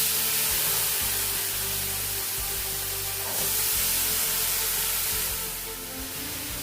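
Chopped carrot, potato and cauliflower hitting hot mustard oil with turmeric in a pan, giving a loud, steady broadband sizzle that swells partway through, with no voices.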